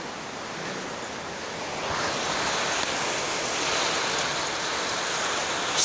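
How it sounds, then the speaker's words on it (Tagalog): Heavy rain pours in a dense, steady roar that swells slightly partway through, loud and close, with no voices. "Ang lakas ng ulan dito sa amin."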